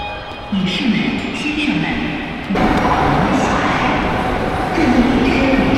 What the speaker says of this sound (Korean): C급 기차라고 2등석이에요 이게.